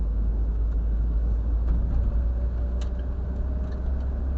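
A 1980 Triumph TR7 engine idles with a low, steady rumble and a faint puffing rasp from a blowing exhaust leak, with occasional light clicks.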